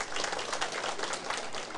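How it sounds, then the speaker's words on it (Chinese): Audience at a lecture of a government administrative training class claps in response, a short burst of dense, moderately loud applause from a roomful of people. "甲拍手诶！"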